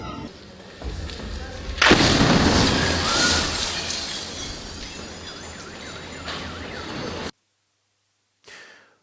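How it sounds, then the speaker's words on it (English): A Russian missile strikes a town in Sumy, Ukraine, with a loud heavy blast rolling and rumbling for several seconds, then cutting to silence before a brief faint noise. "the first Russian missile hits the town"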